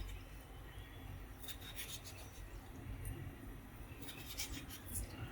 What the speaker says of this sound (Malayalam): അതിനെ ഇങ്ങനെ ഒരു ക്യൂബ്സ് ആയിട്ട് നമുക്ക് കട്ട് ചെയ്തെടുക്കാം